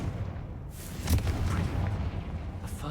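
A Confringo blasting spell in Hogwarts Legacy sets off one close, booming burst that rumbles briefly over the game's ambient backdrop.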